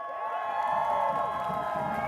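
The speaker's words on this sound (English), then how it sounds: "Let's have an applause for her." A crowd cheers and whoops outdoors at a march against gentrification in San Francisco's Mission District, with raised voices and shouts blending into a steady, continuous roar throughout.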